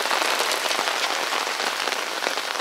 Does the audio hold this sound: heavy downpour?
yes